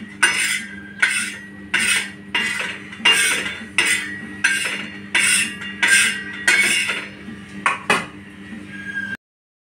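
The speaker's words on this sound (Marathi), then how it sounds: "चमच्याने मी या थोड्याशा गाठी आहेत त्या अशा बारीक करून घेते." A metal spoon breaks up lumps in freshly roasted flour inside a pan, making about ten evenly spaced scraping, grinding strokes. They are close, fairly loud and heard alone, ending abruptly.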